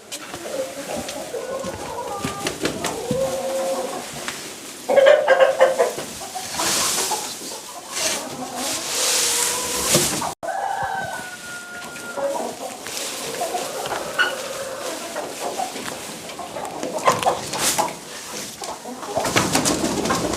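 Hens on a farm cluck and murmur close by, with cooing birds and occasional louder calls; a voice speaks briefly among the flock.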